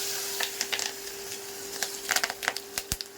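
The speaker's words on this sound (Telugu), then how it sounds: "Oil heat ఎక్కిందండి. జీలకర్ర, కరివేపాకు, ఆవాలు, ఎండుమిర్చి, వెల్లుల్లి అన్నీ ఒకేసారి వేసేస్తున్నాను." Cumin, curry leaves, mustard seeds, dry red chillies and garlic dropped together into hot oil as a tempering for a gongura and dried-prawn pickle, crackling and popping in scattered sharp bursts over a low, steady sizzle.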